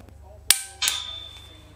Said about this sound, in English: You guys can hear in the background my gun dry firing.